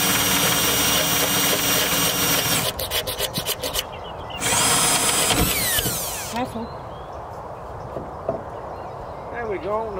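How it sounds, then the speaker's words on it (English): A power drill bores holes through the steel roof of a narrowboat, giving loud, sustained grinding and whirring bursts with brief pauses between holes, while a person speaks nearby. "and that's drilling holes in the roof"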